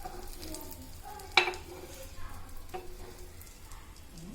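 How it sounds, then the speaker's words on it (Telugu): Veg rava burger patty frying on a hot tawa over low flame, a steady soft sizzle throughout with one sharp clink of a spatula midway and faint scraping, no talking. "కొంచెం సేపు ఫ్రై అవనివ్వాలి."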